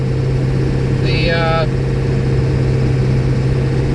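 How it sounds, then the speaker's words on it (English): A steady, loud engine drone runs throughout without letup, with a brief higher-pitched tone briefly cutting through. "I'm having to shout because my engine's kind of loud"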